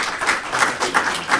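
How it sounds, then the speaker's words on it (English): Lecture-hall audience clapping to welcome a bishop before his summer lecture, a fairly small group whose claps pulse in a loose rhythm with a few distinct bursts, close and moderately loud. "Please give him a very warm round of applause"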